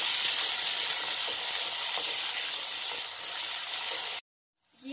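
Thin potato pieces fry in a hot pan with onions, giving a steady, loud, close sizzle and hiss for about four seconds before it cuts off abruptly.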